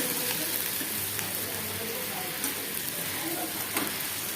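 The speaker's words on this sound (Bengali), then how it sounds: "রসুন কুচি আর পেঁয়াজ দেওয়া হয়ে গেছে যে ভেজে নিয়েছি ভালোভাবে ভেজে নেব" Chopped onion and garlic frying in oil for aloo paratha filling, a soft, even sizzle with occasional faint spatula scrapes, fairly quiet and steady.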